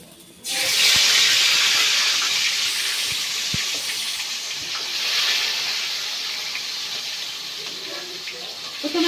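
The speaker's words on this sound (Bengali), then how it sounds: "প্রথমে আমি ডাগার মাছগুলো ভেজে নিচ্ছি।" Fish frying in hot oil in a wok, a loud hiss bursting in suddenly and holding as a dense steady sizzle with a few faint knocks, close and continuous.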